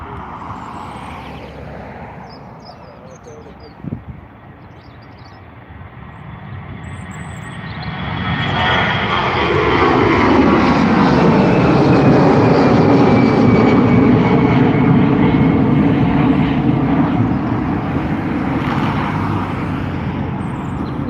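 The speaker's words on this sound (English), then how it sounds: "taking off now is the A320 heading over to Tenerife." A 20-year-old Aer Lingus Airbus A320-200 jet takes off at Dublin Airport, starting as a distant hum and swelling into a loud, sustained roar of engines with a rising whine that holds steady as it climbs away.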